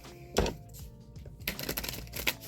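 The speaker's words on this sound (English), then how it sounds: "Let me get this keyboard out of my way." A computer keyboard shifted around on a desk, a sharp knock followed by a few scattered taps and rattling clatters, close and fairly quiet.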